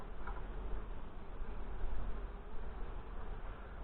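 Honey bees hum and buzz steadily around an open hive during a June inspection, a dense, close swarm drone that continues without a break and with no talking.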